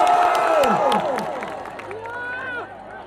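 A large crowd cheers, shouts and whistles at a Pawan Singh rally, with rising whistles and clapping blended into a loud, dense roar that stays steady throughout.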